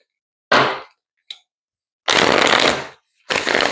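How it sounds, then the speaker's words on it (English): Tarot cards being shuffled at close range in separate bursts: a short riffle, a tiny flick, then two longer, louder shuffles with silence between them. "Get one more shuffle."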